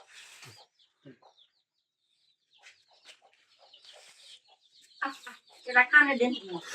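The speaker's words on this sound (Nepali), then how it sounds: "हामीले भाले यस्तो हुन्छ गजबको" A local village rooster lets out a few loud clucks near the end after quiet stretches, with brief faint sounds and a little talk earlier.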